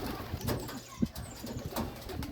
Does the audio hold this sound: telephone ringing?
no